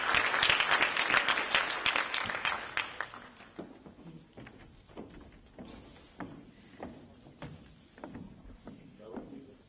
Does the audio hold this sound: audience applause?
yes